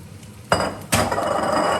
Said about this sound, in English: Okay, I hear the sizzle.